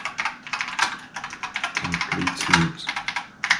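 Rapid typing on the keyboard of a BBC Master 8-bit microcomputer, a steady run of close, crisp keystrokes with a few heavier thumps near the middle, with no voices.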